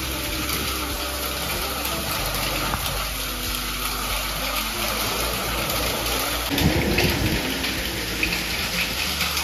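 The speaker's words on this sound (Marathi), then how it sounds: "पाऊस अतिशय त्याच्या जोरदार अशा रौद्र रूपामध्ये पडतोच आहे" Heavy monsoon rain pours steadily near a waterfall at the Dari Aai Mata temple outside Nashik, a dense continuous hiss with a low rumble and occasional louder splashes.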